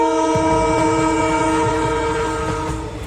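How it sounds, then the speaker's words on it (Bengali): A train passes close by, its horn sounding as a long sustained blare over the rhythmic clatter of wheels on rails, fading slightly toward the end. "ট্রেন"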